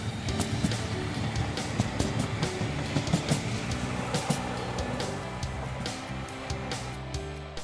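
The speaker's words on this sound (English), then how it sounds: "We reboard the tram to continue towards Birmingham." A West Midlands Metro tram heads toward Birmingham, a steady rolling rumble with rhythmic wheel clatter and a continuous broadband whoosh, heard from aboard at moderate level.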